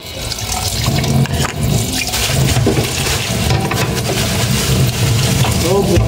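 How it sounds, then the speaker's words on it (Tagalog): Tap water runs hard and steadily in a kitchen sink while raw pork is washed, a loud close gush with splashing changes throughout and a voice speaking faintly beneath it. "Hugasan ko naman pork."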